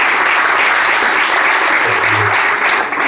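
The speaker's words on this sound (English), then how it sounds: "So, with a round of applause, please welcome Daniel." Loud, close applause from an audience at an AI meetup talk, a dense continuous wash of clapping that holds steady for about three seconds as a speaker is welcomed to the stage.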